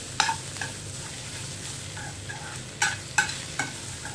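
Snake gourd stir-fry with spice powders stirred in a pan, a few separate scraping strokes of a spoon against the pan over a low steady cooking hiss, close and fairly quiet.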